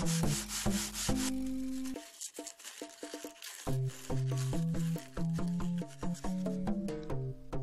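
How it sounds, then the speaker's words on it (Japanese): Burrs are sanded from a drilled port hole in a wooden speaker box with steady rubbing strokes, heard alongside background music. "大まかにささくれを取っておきましょう。"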